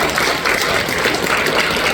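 A church congregation applauds during an afternoon worship service, a loud, dense, steady clapping that fills the whole moment with no voices over it.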